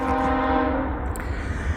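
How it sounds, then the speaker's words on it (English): A potash freight train hauled by Canadian locomotives sounds its horn, a loud sustained multi-tone blast over the rumble of the passing train. "This is a potash train out of, well, it's not obviously out of Canada, but the power is, so it might be out of Canada."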